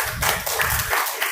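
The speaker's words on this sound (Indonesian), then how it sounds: "Kasih tepuk tangan dulu." Brief classroom applause as students clap for a group that just presented, a short burst of close, uneven hand claps with some low rumble underneath, fading toward the end.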